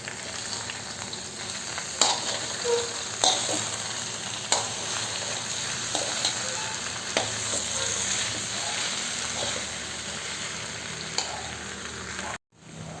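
Boiled tapioca and grated coconut being stirred in a hot pan, a continuous sizzle with regular scraping and tapping of a spoon against the pan, no talk.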